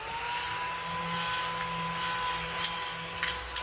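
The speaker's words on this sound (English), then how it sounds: "it's this little vacuum cleaner" A small vacuum motor runs steadily with a thin whine over a constant airy hum, with a few brief clicks near the end.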